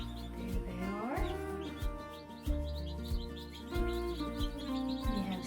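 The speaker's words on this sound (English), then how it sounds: "we hatched out some chicks and they are doing absolutely wonderful in the chick brooder" Newly hatched baby chicks in a brooder peep close by, a busy stream of overlapping high chirps, with the low murmur of a voice underneath.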